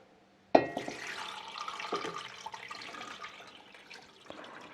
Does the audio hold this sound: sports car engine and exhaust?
no